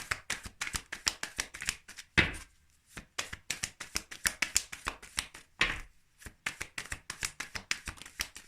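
Tarot cards shuffled and drawn, with rapid riffling bursts and crisp flicks in quick rhythmic clusters, close and fairly quiet, broken by two brief pauses.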